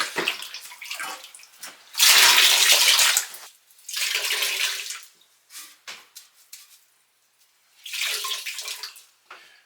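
Bursts of rushing, splashing water draining from a toilet tank pour out in three main surges with brief pauses and small trickles between, close by and fairly loud.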